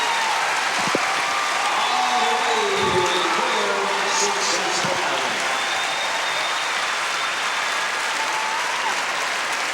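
A show jumping arena crowd applauds a clear round by a white thoroughbred, sustained clapping spread across the stands with cheering, while a commentator talks over it.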